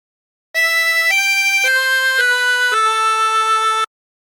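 A 24-hole tremolo harmonica plays a slow descending phrase of Be Thou My Vision, six sustained reedy notes in steady steps, loud and close with no other sound.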